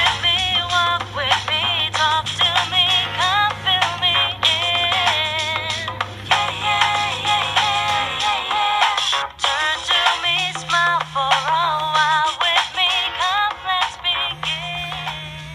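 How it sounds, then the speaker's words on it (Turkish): Doorbell ringtone playing on a Nokia 1600 phone, a bright electronic melody of repeated chiming notes over a steady low tone, loud and close with no talking. "evet, kapı zili sesi."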